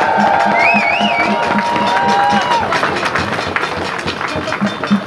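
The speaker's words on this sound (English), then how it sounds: "can we get one more big round of applause for all the Flying Pickets?" A rally crowd cheering and clapping, loud and dense, with whistles and shouts mixed in and a steady rhythmic beat underneath.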